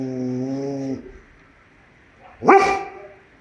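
A dog gives a drawn-out tonal whine-like bark, then after a pause one sharp, loud bark close to the microphone in an otherwise quiet setting.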